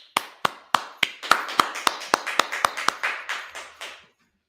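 About fifteen sharp claps or taps in a quick, even rhythm, a single close source rather than a crowd, stopping abruptly.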